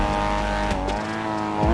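A military vehicle engine in GTA 5 revs steadily with a strong, tonal drone that holds for most of the moment and then swells louder near the end.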